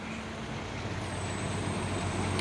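A Fuso 6x4 truck grinds up a hill in the morning, its engine giving a steady, loud, continuous low drone with no break.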